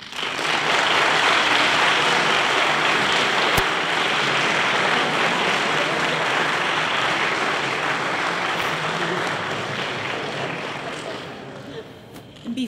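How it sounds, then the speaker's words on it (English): An audience at a high school distinguished alumni ceremony applauds in a long, dense round of clapping that holds steady and full, then slowly thins and fades near the end. "I would like to ask for one more round of applause for all our distinguished alumni."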